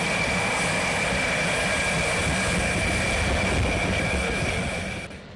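Rafale fighter jets take off in France with a loud, continuous engine roar and a high whining tone, holding steady before fading away at the end.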